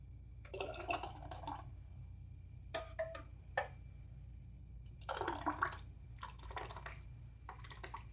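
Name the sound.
filling canning jars with tomato basil soup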